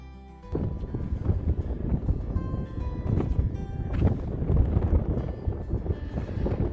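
Strong wind buffets the microphone in rumbling, gusty bursts throughout at Promontory, Utah, around 37 degrees, with no voices heard.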